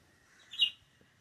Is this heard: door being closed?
no